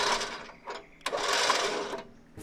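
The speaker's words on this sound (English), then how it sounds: "we might need to use the winch, so see if it works here on flat ground at camp" An old electric winch with a steel cable, tested on flat ground at a forest campsite, whirs in steady motor bursts with brief pauses between pulls, loud and close.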